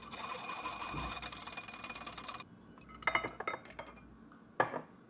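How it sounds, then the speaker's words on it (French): A spoon clinks and taps against a bowl while cake batter with water and sunflower oil is mixed, a steady whirring blur at first giving way to sparser, sharper knocks. "je rajoute un demi-verre d'eau, un demi-verre d'huile de tournesol et je mélange encore"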